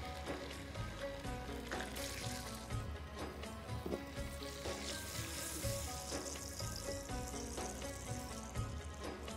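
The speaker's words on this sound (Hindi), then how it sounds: "अब मैं इसमें ऐड करूँगी टोमेटो का पेस्ट।" Tomato paste hitting hot oil in a mutton jalfrezi karahi, giving a steady, dense sizzle and frying crackle that runs throughout at close range with no talk.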